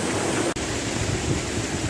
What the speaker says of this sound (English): having got up the waterfall, there's still quite a torrent above to be navigated.